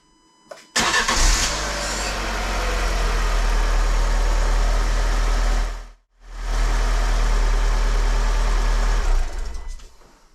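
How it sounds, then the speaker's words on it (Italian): A Lancia Ypsilon 1.2 8v petrol engine (169A4000) starts and idles steadily after an oil change, a loud continuous hum that briefly dips once midway before the idle resumes. "facciamo girare il motore"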